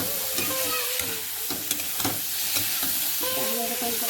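Curry sautés in a pan with a continuous sizzle and frequent scraping stirs up close. Faint voices sound in the background.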